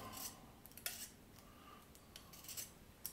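A pencil being opened with a blade: quiet, close snips and small cutting clicks spaced through the moment, several sharper ticks among soft rubbing.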